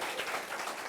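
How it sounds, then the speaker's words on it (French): A school audience applauds its champions at a high school trophy ceremony, a short wash of dense clapping blurred into a steady hiss, fairly faint and without talk. "On va applaudir très très fort pour eux."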